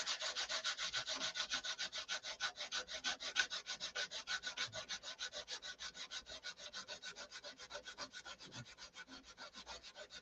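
A 24 grit abrasive sands a wooden piece by hand in fast, regular back-and-forth strokes, producing a steady rhythmic rasping close to the listener with no talk.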